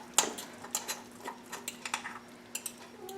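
A spoon scrapes and taps against a pan while burrito bowl sauce is stirred, with a quick run of light, irregular clinks over a soft steady hum, close and fairly quiet.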